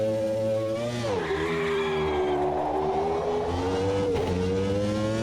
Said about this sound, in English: I'll try my hardest not to spin the wheels and just get a decent start.